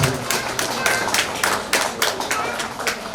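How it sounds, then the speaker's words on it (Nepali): Audience applause at a religious Purana gathering at Paropakar Dham in Biratnagar, a steady run of fairly close hand claps lasting a few seconds. "गडगडाट तालीले सम्मान गर्नमा सादर अनुरोध गर्दछु।"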